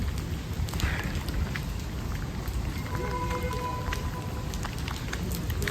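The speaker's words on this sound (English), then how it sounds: "back into the rain I go" Steady rain falls outdoors, a continuous broadband hiss with scattered droplet patter and faint intermittent tones, constant throughout with no speech.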